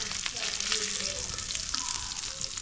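Small fish frying in a pan, a steady loud sizzle with crackling pops throughout, with no talk.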